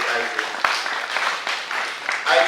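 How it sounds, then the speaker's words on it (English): A conference audience at a humanity panel discussion applauds a panelist, a steady wash of many hands clapping together, fairly close, with a voice speaking over it throughout. "Isaac, shall we clap for Isaac?"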